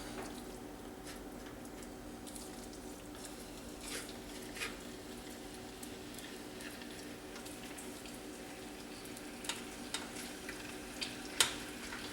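Shrimp and crab cakes sear in molds in a pan, giving a steady low sizzle with occasional small crackles and pops, quiet and unbroken.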